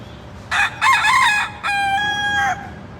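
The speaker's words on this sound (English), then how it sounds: "I found the wild rooster." A wild rooster crows loudly and close by, one long strained call broken into parts, followed by a second sustained crow.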